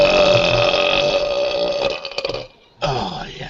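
A long, loud burp rumbles close to the microphone on a live stream, breaking into a few gurgling pulses before a brief silence and another sound.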